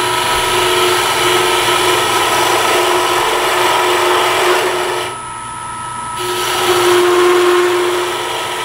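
A wood lathe spins furniture stock while a gouge cuts a rounded cove, giving a loud steady whine and hum with a brief quieter dip partway through.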